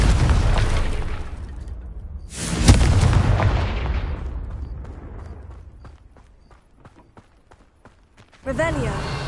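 Confringo fire spell blasts in Hogwarts Legacy: a loud explosive burst at the start, a second boom around two and a half seconds that rumbles and fades, then a later sharp blast near the end, with speech running through.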